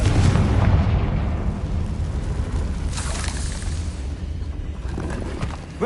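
Confringo blasting spell detonating in a video game, a booming explosion with a heavy low rumble that swells at the start and carries through a second burst, loud and sustained with no voices.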